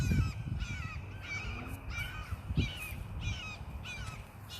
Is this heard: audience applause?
no